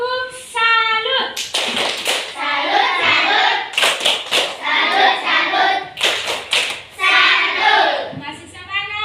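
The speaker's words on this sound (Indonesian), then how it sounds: "Tepuk salut." A class of children performs the Indonesian tepuk salut clapping chant in a classroom lesson: sung chanting voices alternate with bursts of sharp, rhythmic group hand claps in tight patterns, loud and close.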